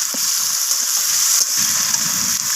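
Onions and tomatoes frying in a pan while mutton with potatoes is being cooked at home: a close, continuous loud sizzle with soft stirring scrapes underneath and no talking.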